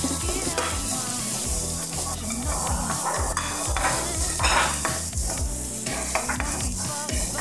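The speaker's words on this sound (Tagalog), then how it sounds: "Saute lang natin hanggang mag-golden brown ang ating garlic" Garlic sautéing in a pan with a steady close sizzle and repeated rhythmic stirring scrapes of a utensil against the pan, continuous throughout.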